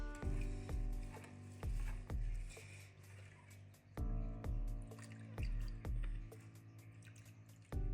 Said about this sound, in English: do a grabbing motion while also mixing it to rinse out the rice